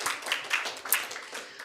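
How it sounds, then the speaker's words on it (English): A small audience at a summit conference session gives brief applause, a short burst of soft, blended clapping that fades quickly, close and moderately loud. "Let's give a round of applause."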